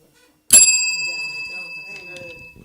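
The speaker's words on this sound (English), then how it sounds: "when you hear us ring these bells, that means we're really excited" A hand bell is struck once, giving a bright, sharp ding that rings on and slowly fades, with faint voices murmuring beneath the decaying tone.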